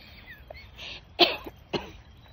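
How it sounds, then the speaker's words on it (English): A person gives two sharp, close coughs about half a second apart, preceded by a softer throat-clearing breath in an otherwise quiet room. "I'm sorry I coughed."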